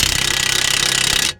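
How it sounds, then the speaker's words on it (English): A power tool whirs as it spins a nut off a Ford Focus suspension arm, giving a loud, close, rapidly pulsing rattle that stops abruptly after about a second. "I'm just going to whiz the nut off"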